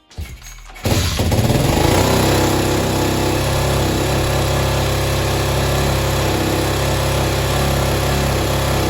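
A motorcycle engine just after its carburetor was cleaned and refilled with fuel catches after a brief start and settles into a loud, steady, close idle while warming up.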